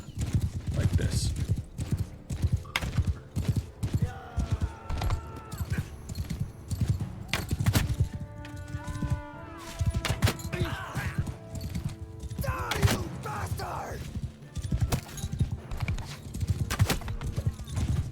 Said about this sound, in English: having all of the cavalry ride at an enemy